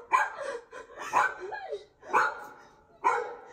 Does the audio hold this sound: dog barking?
yes